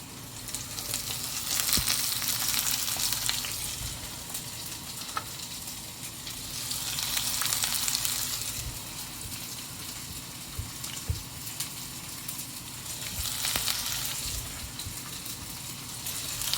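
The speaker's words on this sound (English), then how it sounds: "let this fry for a little while" Shrimp fry in a pan with chili and sweet chili, giving a continuous crackling sizzle that swells and eases in waves. Occasional stirring scrapes and clicks are heard close by.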